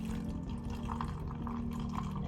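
Melted liquid black soap solution pours steadily into a container, a continuous close watery fill with a low, even gurgle and faint dripping throughout.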